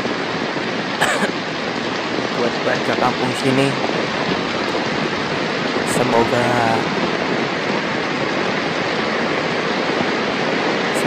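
Heavy rain pours down in the countryside as a dense, loud, continuous wash, with a voice speaking briefly over it.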